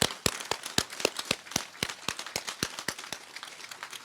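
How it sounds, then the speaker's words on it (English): Sparse applause for a graduating class of correctional officers at a commencement ceremony: a small number of separate, sharp hand claps in an uneven rhythm, fairly faint, with no one talking. "Let's give class 2001 a round of applause"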